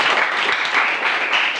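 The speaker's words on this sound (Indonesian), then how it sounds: "Ya, tepuk tangan untuk kelompok 1." Students in a classroom clap for a student group after its presentation, a loud, close burst of many hands clapping together, brisk and continuous with no talk over it.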